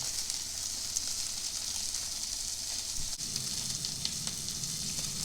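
Steaks sizzle steadily on a Baby Pit Boss grill, fat caps searing as they stand on edge against the side, a constant close hiss running unbroken and alone.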